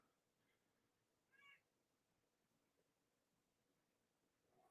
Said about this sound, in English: That's a kitty cat in the background.